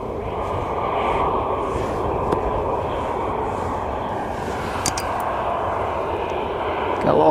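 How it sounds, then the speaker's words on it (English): Boeing 737 at Edinburgh Airport, a continuous engine roar at moderate distance, with someone talking over it and a few brief clicks and a bump near the end. "Boeing 737."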